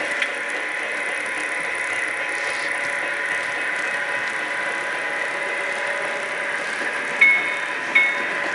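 A model Boston and Maine passenger train, number 4258, hums with a steady electric whir and mechanical clatter as it arrives, with two sharp clicks near the end.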